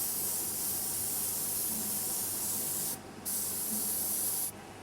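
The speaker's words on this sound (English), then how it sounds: "you can see that I'm holding the airbrush at quite a distance" An airbrush sprays dark paint over a stencil from quite a distance, giving a steady, close hiss that runs almost without a break and stops briefly twice.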